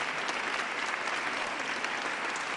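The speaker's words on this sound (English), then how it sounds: "let's give our Mayor Sherelle Parker a real big round of applause as well." A crowd at a Philadelphia event applauds Mayor Cherelle Parker with dense, loud, sustained clapping that holds steady for the whole stretch, no speech on top.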